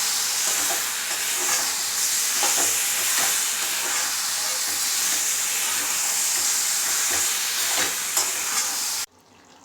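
Chicken meat sautéing in hot oil for Mughlai chicken, a steady, bright sizzle and hiss from the pan that holds evenly for around nine seconds before cutting off abruptly.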